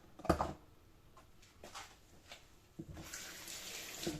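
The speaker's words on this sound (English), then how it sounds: "Just run water through it to rinse it, and you're done." Tap water runs briefly through a travel tea brewer after brewing hot hibiscus tea, a soft rinsing splash with a short clatter near the start and a steadier hiss of flow toward the end.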